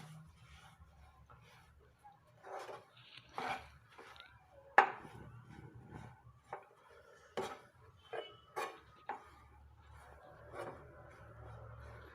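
Sesame seeds being stirred into a sweet chikki mixture in a pan, with scattered scraping and clinking of a spoon against metal, quiet and intermittent over low background hum.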